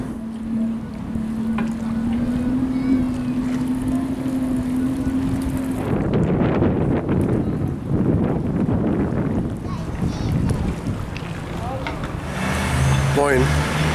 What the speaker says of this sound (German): Windig hier.